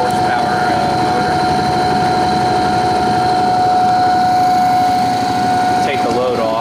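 A half horsepower electric motor driving an old Imperial Electric dynamo, producing a loud, steady mechanical hum with a fixed whine that drones on at close range throughout.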